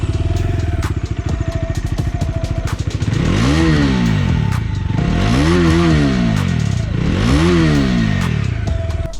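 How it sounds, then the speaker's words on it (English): Bajaj Dominar 250 BS6 motorcycle idling with a throbbing dual-barrel exhaust, then revved up three times in swelling, bassy blips that fall back to idle, close and loud. "this sweet dual barrel exhaust which has a bassier"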